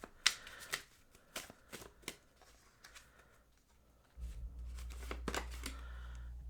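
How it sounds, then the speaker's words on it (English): Tarot cards are shuffled and pulled by hand, giving close, soft riffles and sharp slaps in an irregular rhythm, with a low hum entering partway through. "I need to pull a couple more cards"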